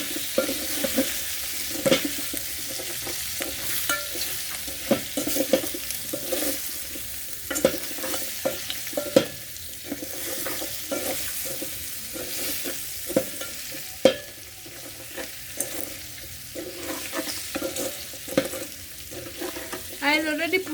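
Potatoes sizzle and fry steadily in a pot for a long stretch while cooking beef pilau, with repeated scraping and knocking of a spoon stirring now and then.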